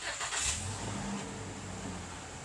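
A 2019 Toyota Fortuner 2.7 petrol 2x4 with push-button start cranks and fires up, then settles into a steady, low-rpm idle. The engine sits close and fairly loud, with no talking.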